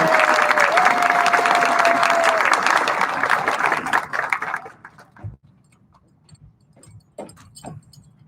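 Loud, sustained applause from a crowd at a school commencement ceremony fills the first few seconds, then thins into scattered claps and quiet room noise.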